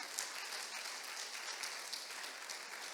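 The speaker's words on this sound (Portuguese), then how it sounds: "Quantos podem dar uma salva de palmas ao Senhor?" A church congregation applauds steadily, a dense wash of clapping that continues evenly without pause.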